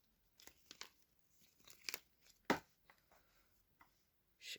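Paper insert from a Gan 11 M Pro Rubik's cube box being handled, giving quiet, scattered crinkles and rustles in short irregular bursts, close by with no talking.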